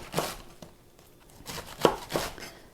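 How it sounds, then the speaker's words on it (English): A knife chops through romaine lettuce on a cutting board in a few irregular crisp, crunchy strokes, close and fairly quiet, with short pauses between cuts and no talking. "I'm just chopping up my romaine lettuce"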